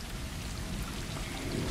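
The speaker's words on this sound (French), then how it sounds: "Il pleut." Steady rain from the video game Stray falls as a continuous broadband hiss with a low rumble underneath, even and moderately loud throughout, with no voices.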